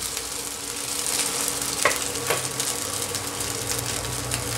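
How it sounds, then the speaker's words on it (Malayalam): Grated coconut roasts in a pan with a continuous dry sizzle and crackle, while a utensil stirs and scrapes through it with occasional sharper clicks, close and steady throughout. "ഇപ്പോൾ നാളികേരമൊക്കെ നന്നായിട്ട് തന്നെ മൂത്ത് വന്നിട്ടുണ്ട്."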